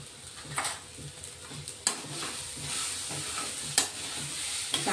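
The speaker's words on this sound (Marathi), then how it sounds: "चांगला शिजून घ्यायचा हा मसाला." Turmeric masala cooks in a pan, a soft steady sizzle broken by a handful of sharp spoon-against-pan clinks and scrapes as it is stirred, with no voices.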